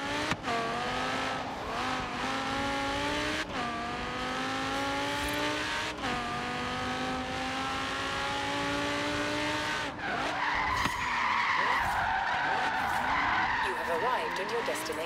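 A car in Forza Horizon 3 spins out, its engine revving and wavering as tires squeal and skid, with a sharper screech toward the end; voices talk over the driving.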